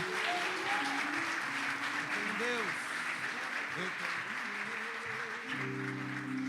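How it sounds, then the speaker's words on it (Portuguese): A church congregation applauds at a celebration service, a dense wash of clapping that holds steady from start to finish, with sustained musical tones and voices mixed in beneath. "Aplauda Ele de novo, mais forte"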